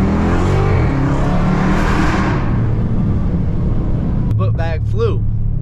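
A Dodge Hellcat Charger on new wheels accelerates hard from a roll along a road, filling the cabin with loud, steady engine and road roar; brief voices speak near the end.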